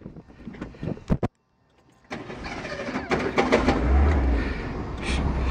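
A 1963 Ford Falcon Futura convertible with a straight six: a few clicks and a brief silence, then the starter catches and the engine settles into a steady idle that grows slightly louder, heard alone without talk.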